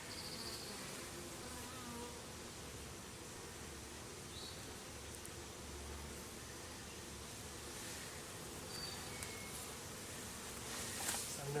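Honeybees in a newly opened backyard beehive make a continuous, soft, swarming buzz, a steady hum of many insects close by with no talking.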